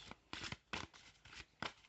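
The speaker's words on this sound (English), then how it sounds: "let's shuffle up another deck here" A deck of cards shuffled during a tarot reading, five crisp riffling bursts in quick succession, close and fairly quiet with no talk.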